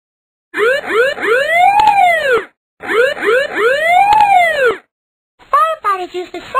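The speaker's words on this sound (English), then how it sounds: "Firefighters use the siren when they're driving to a fire." Synthetic fire truck siren wailing up and down in bursts separated by short gaps, loud and close, with layered harmonic sweeps and a choppier final burst.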